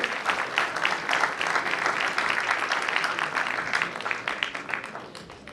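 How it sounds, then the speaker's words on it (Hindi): A big audience at a university inauguration ceremony applauds continuously, a dense wash of clapping that holds steady and fades slightly toward the end. "जोरदार तालियां एक बार फिर से।"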